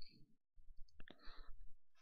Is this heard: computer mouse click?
yes